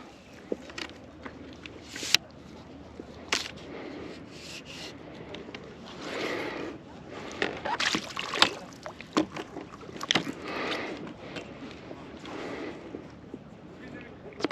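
Paddling a stand-up paddleboard on a lake with a canoe paddle: soft, irregular splashes and water swishes from repeated strokes, quiet and close, with faint rubbing and handling noises between them.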